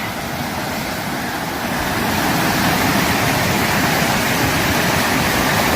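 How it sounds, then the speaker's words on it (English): Fast, high river water rushes in a steady, loud, broadband roar that swells slightly and never lets up, with no voices. "And that water is running quick."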